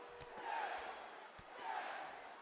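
A wrestling arena crowd in a WWE video game chanting "yes" in unison, two rising and falling swells of massed voices at a moderate distance, punctuated by a few sharp thuds.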